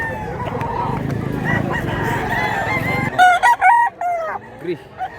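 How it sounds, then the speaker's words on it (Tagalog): Roosters in a poultry market, street comb round-head birds of assorted colours, with a loud nearby cock crowing clearly in the second half after a stretch of dense market din and clucking. "Mga manok."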